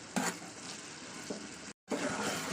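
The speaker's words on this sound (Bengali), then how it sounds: "তো চলুন এটা ভালো করে কষিয়ে নিই" Spice paste sautés in a pan for an Aamudi fish curry, making a quiet, close sizzle with soft stirring scrapes and a brief gap of silence near the end.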